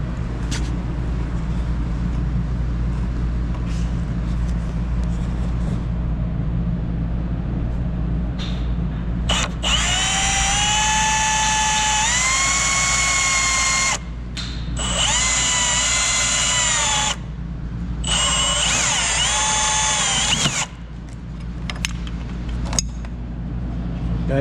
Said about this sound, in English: So got my drill with a Milwaukee step bit so we can drill through this.